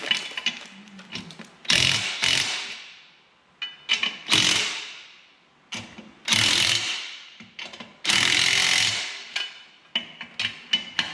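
Half-inch carriage bolts on John Deere 1025R Versa Turf dual wheels being tightened with a ratchet, rapid clicking bursts separated by short pauses, close and fairly loud, no talking.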